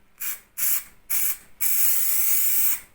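Spray glue hisses onto car seat foam during MG Midget upholstery work: three short, sharp bursts in quick succession, then one longer sustained spray, close and clear.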